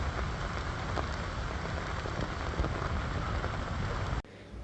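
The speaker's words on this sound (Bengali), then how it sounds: "পুকুরের জলে বৃষ্টির ফোঁটা পড়ার শব্দটা খেয়াল করেছ কি সুন্দর না" Rain falls on pond water in a dense, steady patter that continues evenly before cutting off abruptly just before the end.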